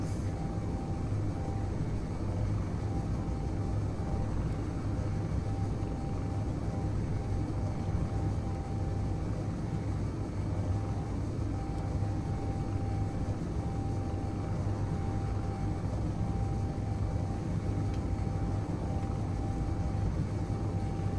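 Atmospheric thrusters running in the Space Engineers game give a steady, loud low engine-like rumble with a faint constant tone above it, unbroken throughout with no talking.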